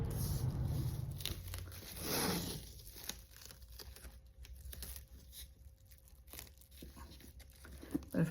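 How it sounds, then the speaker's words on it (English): Packing tape rips off a roll for sealing a cardboard box edge, a loud tearing burst near the start and again around two seconds, followed by quieter crinkly handling noises close by. "I think I'm gonna have to tape that edge."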